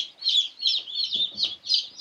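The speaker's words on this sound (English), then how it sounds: "Oh, look how tiny that chicken is. I know, that's a bantam." A small bantam chicken clucks close by in a quick series of about five high, even calls, alone without talk.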